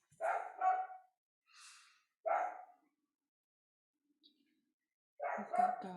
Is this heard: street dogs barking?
yes